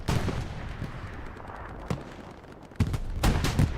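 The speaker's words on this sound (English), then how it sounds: "the artillery's just killing everybody" Artillery fire in the shooter game Hell Let Loose booms and crackles through a competitive match, with a few sharp blasts standing out against a rough, continuous background of distant gunfire.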